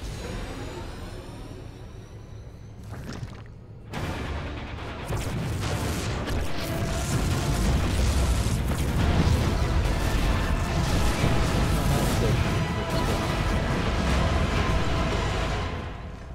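Continuous rumbling blasts and crashing booms from StarCraft 2, dense and loud, with a brief lull before the barrage swells and rolls on without letup.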